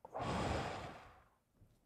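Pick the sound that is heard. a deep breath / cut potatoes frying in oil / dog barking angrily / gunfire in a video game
a deep breath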